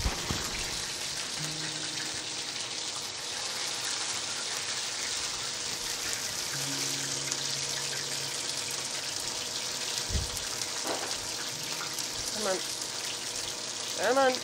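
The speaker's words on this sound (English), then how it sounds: "Make sure that you're frying in a tall-sided skillet so this doesn't splash all over you either." A myconid mushroom cap fries with garlic butter in a tall-sided skillet, giving a steady, dense sizzle and crackle throughout, with occasional pops and kitchen clatter.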